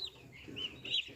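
Newly hatched turkey chicks in a brooder give a few thin, high chirps, quiet and close, with short peeps spaced across a soft background.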